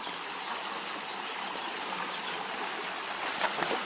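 Clear water flows in a stream near an old mill on the Guadaíra river, a steady close rushing and trickling with a faint gurgle near the end.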